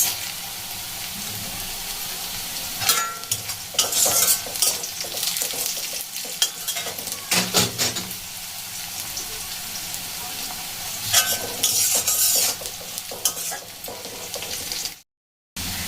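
Dried red chillies, chana dal and mustard seeds hit hot oil in a pan, producing a loud continuous sizzle with bursts of crackling and spatula stirring, then a sudden cut to silence near the end.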